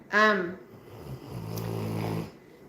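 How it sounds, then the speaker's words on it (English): A man snoring nearby, one long rasping inhalation followed by a low buzzing snore, with a brief voice at the start. "Oh, he's snoring."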